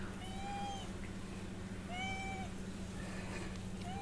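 A pregnant female cat meows twice, drawn-out clear calls close by, with a third fainter meow near the end over a steady low background hum.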